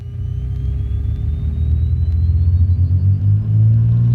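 Twin-engine Cessna propeller airplane with both engines at takeoff power, a loud, steady deep drone and rumble that swells slightly toward the end, with a faint rising tone above it and no talk.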